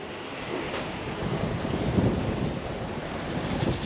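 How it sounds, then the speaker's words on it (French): Steady roar of 20-knot wind buffeting the microphone on a sailboat at sea near the Tuamotus, over rushing sea water, loud and continuous with slight swells in intensity, no voices. "Il y a toujours 20 nœuds de vent."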